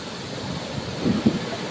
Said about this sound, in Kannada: 180 ಅಡಿ ಮೇಲಿಂದ ನೀರು ಧುಮ್ಮಿಕ್ತಾ ಇದೆ.